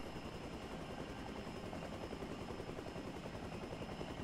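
Helicopter in the video game The Front, a steady dense rotor-and-engine drone that holds evenly for the whole stretch with a fast choppy pulse underneath, loud and alone with no talk.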